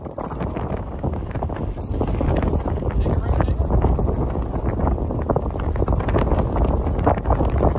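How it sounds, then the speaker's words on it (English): Strong wind buffets the microphone beside a frozen Montana reservoir during an ice camping trip, a steady loud broadband roar that continues unbroken from start to finish. "It's a little windy today."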